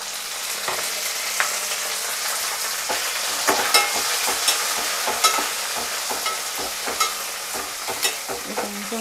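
Chopped tomatoes frying and being stirred in a pan for Andhra-style tomato dal, a steady close hiss of sizzling oil with frequent scraping stirs and small spatters throughout, no voices.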